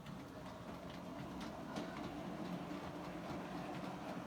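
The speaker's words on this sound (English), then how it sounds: "Hopefully the train will come past in a moment." A Gn15 model train passes on a layout with a return loop, giving a steady, continuous rumble and clickety-clack of small wheels on track, fairly close and without talk.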